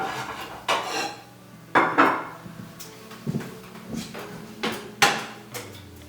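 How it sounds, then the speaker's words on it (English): A metal frying pan clanks and knocks against other cookware several times at irregular moments, sharp and close, in an otherwise quiet kitchen. "So we're gonna get a frying pan."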